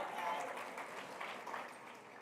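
A gala audience applauds teachers at an awards event, giving a steady, moderate wash of clapping throughout with faint voices mixed in.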